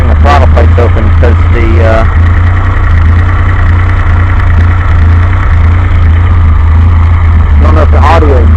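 A carbureted DeLorean engine idles with a steady, low, even hum throughout, and a voice is heard briefly at the start and end.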